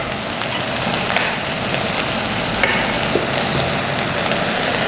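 Garlic going into a hot pan for chicken seaweed soup brings a steady, close sizzle and frying crackle that holds evenly throughout, with a few small pops and no talking.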